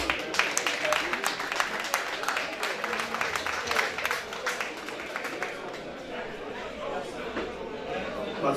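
A crowd applauds at a memorial tribute in Florida for Joe Charles, a Haitian compas bass player. The clapping is steady and dense, spread across the whole stretch, with some murmured voices mixed in.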